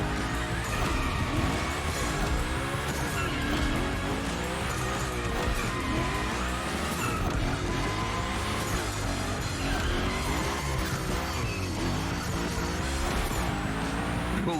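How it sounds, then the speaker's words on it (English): Hoonicorn car in The Crew Motorfest game roaring through gymkhana slides, its engine revving hard and rising and falling in pitch as tires squeal steadily throughout, loud and continuous. "we're gonna rough up the Hoonicorn a bit. We're focusing on Gymkhana essentials, big slides, and precision"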